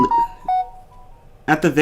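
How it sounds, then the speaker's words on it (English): A phone gives a few short electronic beeps, single tones with gaps between them, followed by someone speaking. "Sorry, that was my phone."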